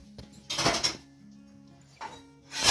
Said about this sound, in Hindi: बर्तन मुझे ही माजना धुलना पड़ेगा